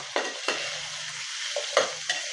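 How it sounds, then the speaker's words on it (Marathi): Garlic frying with chopped vegetables for hotel-style sambar, a close sizzle punctuated by several sharp spatula scrapes and clinks against the pan, no talking. "लसूण थोडासा भाज्यासोबत फ्राय करून घ्यायचा"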